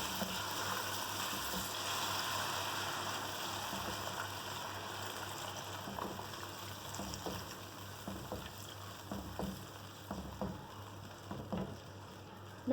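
A cup of milk poured into sugar melting in a pan over a medium flame while making mutanjan, a steady rushing pour with a soft sizzle, followed by scattered clinks and stirring taps near the end.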